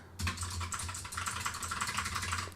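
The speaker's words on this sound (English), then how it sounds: "If you don't like the clicking noise" Rapid clicking of a computer keyboard, a dense close-up run of keystrokes lasting a couple of seconds with no talking.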